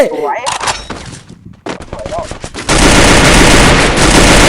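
Gunfire in a shooting video game, with scattered shots and short bursts giving way to loud, continuous rapid automatic fire, while players talk excitedly over it.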